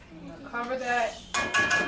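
A lid is set onto a cooking pot of red beans with cilantro, giving a couple of quick close metallic clinks and a clatter, short and fairly quiet.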